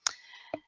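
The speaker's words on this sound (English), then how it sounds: "now I'm going to click on comparison" Two crisp mouse clicks about half a second apart, close and quiet, made while working in Navica real estate software.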